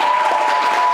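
Audience applause at a quiz show, a dense burst of clapping from a crowd filling the whole moment at steady loudness.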